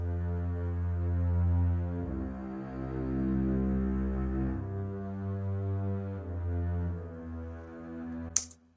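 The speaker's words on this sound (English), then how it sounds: "We'll just hear the double bass again." Low sustained double bass part played in Ableton Live, deep legato notes changing every couple of seconds, smooth and steady with no talking, ending in a brief sharp click.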